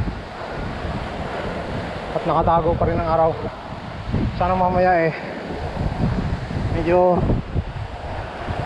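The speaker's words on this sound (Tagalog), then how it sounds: "malakas pa rin ang hangin" Strong wind blows outdoors, a steady rushing roar buffeting the microphone throughout, while a person speaks intermittently over it.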